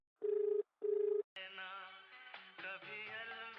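An incoming call rings a telephone in two short, evenly spaced bursts, then music takes over and continues to the end.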